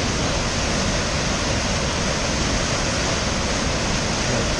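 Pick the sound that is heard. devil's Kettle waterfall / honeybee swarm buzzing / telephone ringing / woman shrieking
devil's Kettle waterfall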